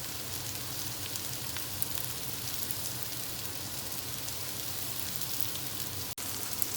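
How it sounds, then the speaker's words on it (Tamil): Potatoes frying in oil in a pan for a dum aloo dinner give a steady, dense sizzle that crackles evenly throughout, with a brief dip near the end. "இதில் நம்ம எடுத்து வச்சுருக்க உருளைக்கிழங்கை வந்து வறுத்து எடுத்துக்க போகிறேன்"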